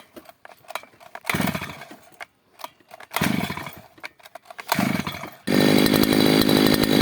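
A Kisan Craft petrol brush cutter's small two-stroke engine is pull-started several times, sputtering briefly between pulls, then catches and runs at a loud, steady high rev.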